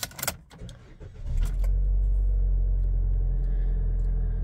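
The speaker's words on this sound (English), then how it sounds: "I'll just start the car up" A Vauxhall Mokka X 1.4T petrol engine cranks and catches after some clicks and rattles inside the car, then settles into a steady, loud low idle rumble.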